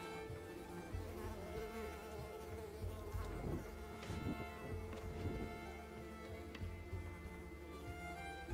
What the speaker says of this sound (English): The buzzing of the bugs is pissing me off.